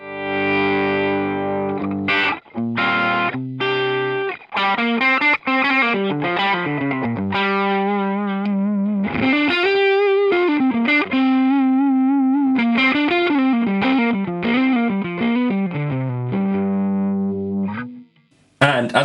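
Electric guitar played through a modelled Dumble ODS amp in ToneX with a smooth overdriven tone, with sustained notes, bends and chordal phrases running continuously and filling the space, alone with no talk.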